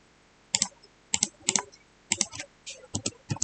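Code being typed on a computer keyboard in short, close bursts of crisp keystrokes, separated by brief pauses, with no talking.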